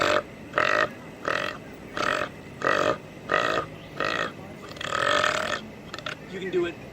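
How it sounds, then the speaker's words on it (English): A person belches deliberately over and over, about nine loud, close burps of steady rhythm, each roughly half a second long with brief pauses between, ending in a longer, rougher belch. "you can turn it into continual belches"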